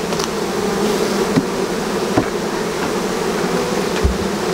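Honey bees at an apiary swarm around capped honey frames being shaken and struck clear of bees: a dense, steady close buzzing fills the whole stretch, broken by a few sharp knocks.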